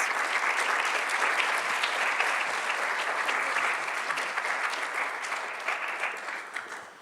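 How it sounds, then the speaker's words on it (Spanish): Audience at an international symposium applauding to welcome a doctor to the stage, a steady dense roll of clapping from a sizable crowd that slowly fades in the final seconds. "Pido un aplauso para recibir al doctor Néstor Octavio Pérez Ramírez."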